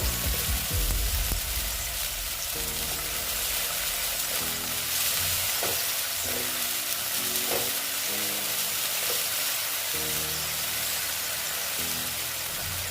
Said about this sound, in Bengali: এখন আমি এখানে দিয়ে দিচ্ছি আদা আর রসুনের পেস্ট